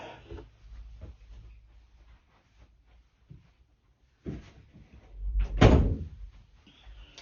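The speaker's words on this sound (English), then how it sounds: "Let me get the door." A door is handled nearby: soft rattling and bumps, then a heavier thud as it swings shut, with quiet room tone in between and no talking.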